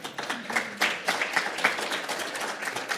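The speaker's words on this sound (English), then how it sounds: "We should be clapping it in a resource-limited setting." An audience claps through a talk on resilient health systems, dense overlapping hand claps at moderate distance, steady with small swells and no voices over it.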